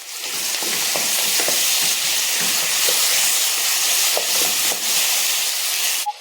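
Onions and tomatoes fry in a pan for a chicken dry gravy, giving a steady, loud sizzling hiss throughout with faint crackles and no talking.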